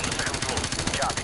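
Rapid bursts of video game gunfire crackle steadily through a short stretch of Propaganda gameplay, dense and continuous with no clear gaps between shots.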